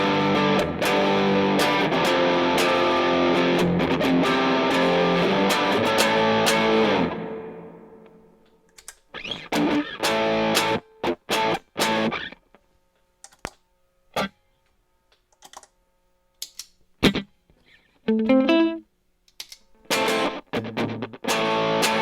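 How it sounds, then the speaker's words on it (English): A distorted guitar chord through a pedalboard with reverb and slapback delay rings out, then choppy picked notes and stabs follow with short echoing repeats and a light reverb tail, separated by brief silent gaps. "Put on a little reverb and slap back delay."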